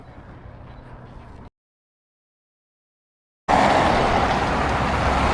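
Road traffic hums on a busy bridge in Tromso, Norway, with cars rolling past at moderate distance. A quiet passage gives way to silence, then a louder, fuller stretch of vehicle noise.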